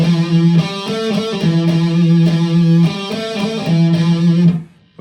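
A distorted electric guitar plays a rock riff section, with sustained low power notes broken by quick repeated figures, loud and close before ringing out at the end.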